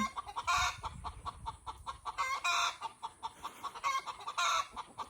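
Backyard chickens cluck and squawk nearby in a pen, repeated bursts of clucking in an uneven rhythm, some louder calls standing out, with no voices.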